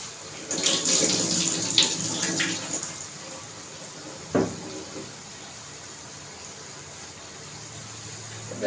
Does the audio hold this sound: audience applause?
no